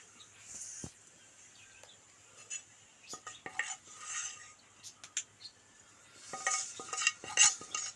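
A spoon scoops cooked dal into a pressure cooker for Kerala parippu curry, giving scattered metallic clinks, scrapes and wet stirring taps, fairly quiet and irregular, with no talking.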